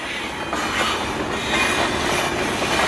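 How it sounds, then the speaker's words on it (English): A train rolls into a station, a steady loud rumble of wheels and carriages with faint squeals, continuous and close throughout. "Oh my god, guys, look, it's the train!"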